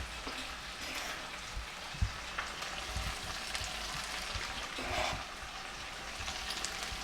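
Salted onions cooking in a pan give a soft, steady sizzle and crackle, faint and close, with a few small pops and no talking.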